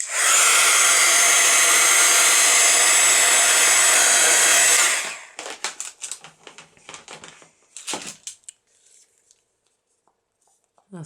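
A hair dryer blows steadily and loudly for about five seconds to dry a handmade dried-flower tag, then cuts off, followed by scattered light handling clicks and rustles.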